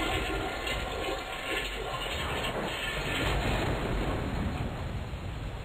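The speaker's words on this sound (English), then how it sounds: "Flush the toilet again." A toilet flushes inside a horror video game, a steady loud rush of gushing water lasting several seconds, close and with no talk over it.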